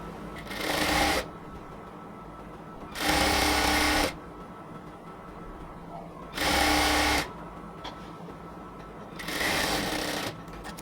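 A sewing machine stitching the joining seam at the opening of a salwar runs in four separate bursts of about a second each, close and steady, with pauses of quiet handling between them.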